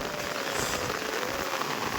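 Heavy rain pours steadily in a village in Arunachal Pradesh, northeast India, a dense, even hiss of drops hitting surfaces close by with no talk over it.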